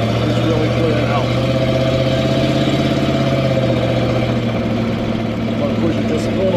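A 1979 Chevrolet C20 square-body truck with a 454 engine runs steadily at idle, a deep continuous rumble that stays close and even throughout with no talk over it.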